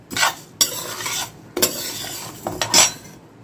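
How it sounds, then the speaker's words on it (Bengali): A spoon stirs mung and masoor lentils frying in a pan, giving several scraping strokes with faint sizzling underneath, close up and with no voices. "হ্যাঁ, এই মুগ আর মুসুরটাকে একটু ভালো করে নাড়িয়ে নিচ্ছি।"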